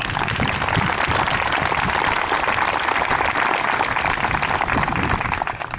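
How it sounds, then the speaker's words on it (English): Steady applause from a graduation ceremony audience, dense sustained clapping from a large crowd that holds evenly for about six seconds. "How about a round of applause for everybody who made this possible?"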